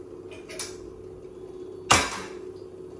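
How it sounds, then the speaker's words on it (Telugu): A cooking pot set down on a stove gives one sharp metallic clunk near the middle, preceded by a lighter tap, against a quiet kitchen hum. "గిన్నె పెట్టేసుకుంటాను"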